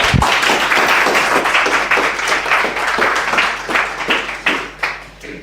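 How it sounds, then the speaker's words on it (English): An audience at a Python meetup talk gives Oscar a round of applause, loud dense clapping close by that slowly thins out and fades. "let's have one final round of applause for Oscar"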